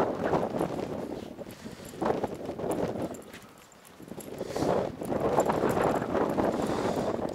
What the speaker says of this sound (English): Man, those horses are big.